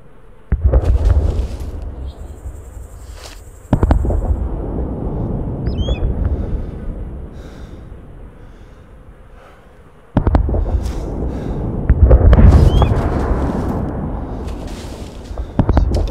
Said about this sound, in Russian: кидает гранату в своем окопе и взрывает себе ее